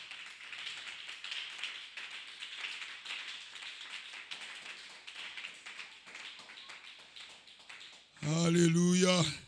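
A church congregation breaks into loud applause and cheering right after a French-speaking preacher's amplified shouting, the clapping swelling abruptly near the end.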